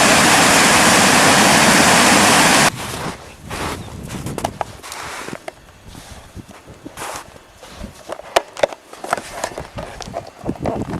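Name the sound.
mountain creek flowing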